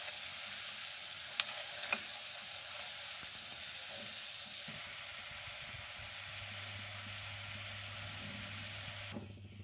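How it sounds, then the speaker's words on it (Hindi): Homemade condensed milk thickening in a pan, a faint continuous bubbling sizzle as a spatula stirs, with a couple of sharp taps early on and a low steady hum joining later. "ये चलाते जाएंगे स्पैचुला, तो ये थिक हो जाएगा।"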